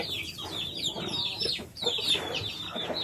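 Japanese Shamo Gohan DBC line chickens clucking up close on a farm, a run of short overlapping clucks and chirps continuing for a few seconds without pause.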